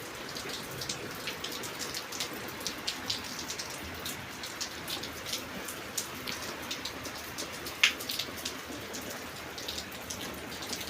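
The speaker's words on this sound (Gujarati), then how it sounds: "વરસાદ ચાલુ છે." Rain falling steadily on surfaces outdoors in a village, a dense hiss of close drops and patters with occasional louder drips, no voices.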